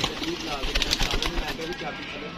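Pigeons kept by a fancier coo in soft, repeated calls close by, mixed with a bit of wing flutter and rustling, under a voice talking.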